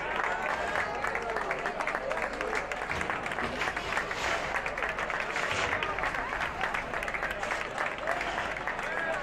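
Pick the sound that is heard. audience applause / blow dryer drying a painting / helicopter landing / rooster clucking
audience applause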